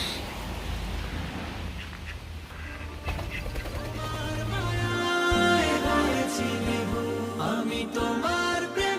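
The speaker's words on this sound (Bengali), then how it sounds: "দুটি হাঁস।" A pair of ducks quack near a waterfall-like spot in the Swiss countryside, their calls repeating over a bright background of running water and music-like tones.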